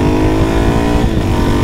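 A motorcycle engine revving, a loud close buzzing drone with strong harmonics, held steady with a brief dip near the end.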